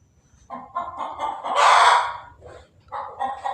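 Chickens on a farm cluck in short bursts before a rooster lets out a loud, close crow that swells in the middle, followed by more clucking, with no voices present.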